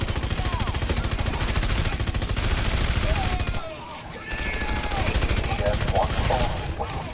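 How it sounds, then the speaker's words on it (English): Sustained rapid gunfire from EDF soldiers in Red Faction: Guerrilla, dense bursts of automatic shots running loud and close almost throughout, with a brief dip midway and voices faintly underneath. "EDF soldiers have opened fire. They're shooting the miners."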